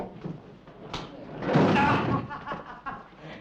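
A door is slammed shut in a 1971 French film scene, giving a sharp thud followed by rattling and room noise, and people talk around it.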